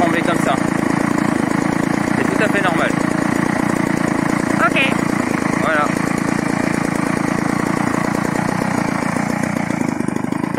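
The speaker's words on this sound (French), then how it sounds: "Le moteur lui reste souple. Voilà, il se met à trembler comme ça." A Peugeot 103 Espérance moped engine idles loudly and steadily, its rough, trembling putter running throughout, with someone talking over it.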